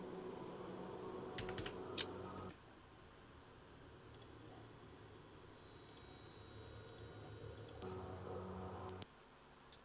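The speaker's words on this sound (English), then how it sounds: "Listen to the correct speed of pressing the keys." Computer keyboard keys are pressed quickly in bursts, crisp clicking taps at a close distance over a quiet background of S.T.A.L.K.E.R. Call of Pripyat game ambience.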